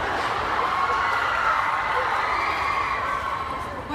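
A large VidCon audience in a hall sends up a continuous, dense roar of cheering and shouting voices, loud and sustained throughout.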